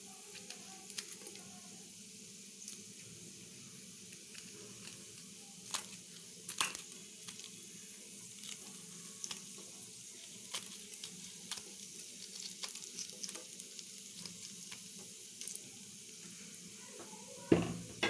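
Garlic and dried chili frying in oil for a spicy garlic mushroom dish, a faint steady sizzle with small crackles and pops, closing with a louder clink.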